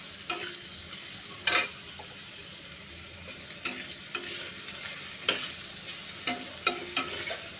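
Potato, onion and garlic frying in a pan while a spatula stirs them, a low steady sizzle broken by repeated sharp scraping strokes and clicks, close and unaccompanied by talk.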